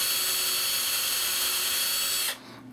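A drill press bores a pilot hole in wood, giving a loud, steady, high whirring whine that cuts off abruptly near the end. No talking is heard.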